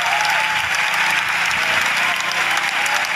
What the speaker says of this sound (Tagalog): Daming pumalakpak dun sa strong statement ng Pangulo.